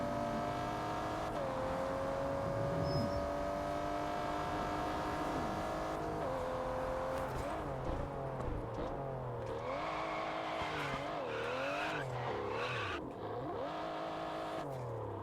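A car in the racing game Test Drive Unlimited Solar Crown revs continuously, its engine pitch rising and falling through shifts as the tyres work. The engine is prominent and sustained throughout.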